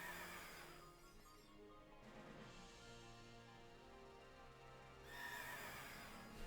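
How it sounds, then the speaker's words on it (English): A horse in the Pokemon Sword and Shield video game neighs in two quavering whinnies, one at the start and one near the end, separated by a quieter rumbling stretch. "There goes the horse."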